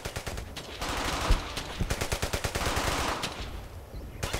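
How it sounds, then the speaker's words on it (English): Sustained automatic gunfire pours onto a machine gun nest in the World War II game Brothers in Arms: Hell's Highway, rapid rhythmic bursts overlapping at moderate distance and easing off toward the end. "I want heavy fire on that MG!"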